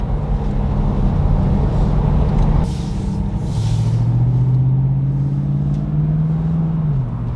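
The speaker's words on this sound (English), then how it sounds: "That exhaust sounds so good." A Lexus GX460 exhaust drones steadily while the vehicle is driving, with a deep rumble and a humming engine tone that shifts in pitch partway through.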